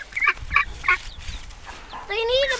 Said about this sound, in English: You ducks get over here.